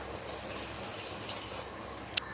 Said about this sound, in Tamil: இப்போ நம்ம தண்ணி சேர்த்துக்கலாம்.